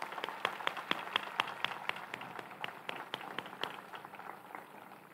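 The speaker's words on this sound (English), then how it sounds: "Let's give these people a round of applause." Audience applause at a high school graduation commencement, a faint, distant patter of scattered hand claps that thins out over several seconds, heard alone without talk.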